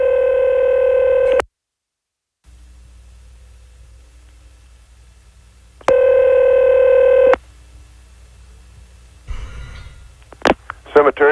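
Telephone tones during a radio call-in show, with two steady multi-harmonic tone bursts of about a second and a half each, separated by a silent gap and low line hiss, followed by faint clicks and line noise.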